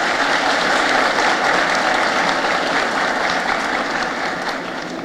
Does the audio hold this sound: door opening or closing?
no